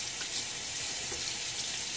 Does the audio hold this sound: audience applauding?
no